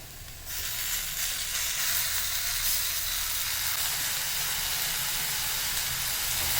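Tomatoes hitting hot oil with frying onions give a loud, steady sizzle that bursts in after a brief quiet start and holds a dense hiss throughout.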